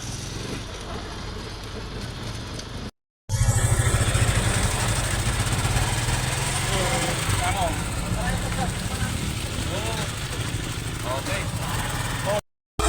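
Motorcycle engine droning steadily while riding on a provincial road, a continuous low rumble with wind noise and brief cutouts, with voices heard partly over it.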